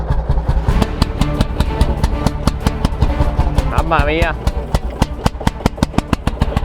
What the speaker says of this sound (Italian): vediamo se il trattore ce la fa